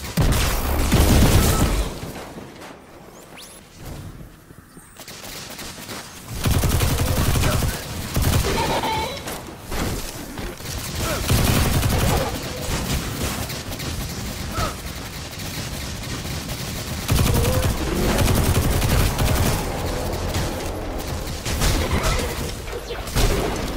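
Rapid bursts of gunfire from the video game Destiny 2, including a fight with Vex, crackle in dense volleys with booming impacts, loud and continuous with brief lulls.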